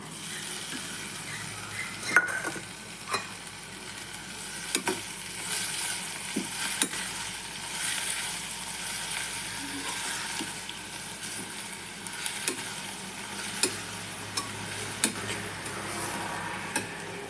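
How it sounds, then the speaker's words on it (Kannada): Steady sizzling of chopped mixed leafy greens sautéing in a pan, with occasional stirring clinks and scrapes, moderately loud and close, no talking. "ಈಗ ನಾನು ಸೊಪ್ಪುಗಳನ್ನು ಹಾಕಿ ಬಡಿಸ್ಕೊಳ್ತೀನಿ ಹಚ್ಚಿದ ಸೊಪ್ಪು ಹಾಕಿ"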